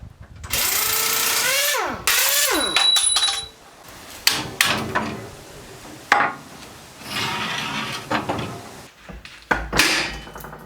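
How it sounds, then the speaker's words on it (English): Power tools and hand tools working the rear leaf spring bolt on a Land Rover: a rising and falling whir of a driver, then clanks, knocks and scrapes of metal, close and intermittent. "Take out the rear bolt."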